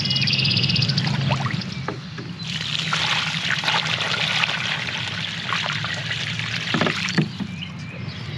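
Water pours and trickles onto freshly transplanted trees outdoors, a continuous splashing rush with small gurgles and a few knocks, fairly close and steady throughout, no talking.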